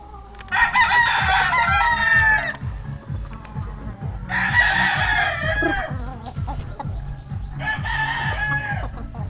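A young stag rooster among backyard fighting chickens crows loudly three times in long, harmonic calls, with steady clucking and cackling from other fowl running underneath throughout.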